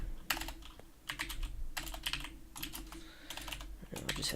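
Close, steady typing on a computer keyboard while writing CSS code, bursts of rapid key clicks separated by short pauses over a soft background hum.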